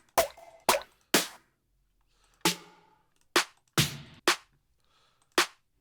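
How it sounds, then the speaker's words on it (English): A dry, tight snare hit repeats in an uneven pattern, each short crack decaying quickly into silence, with no reverb tail. "Cool. Dry snare."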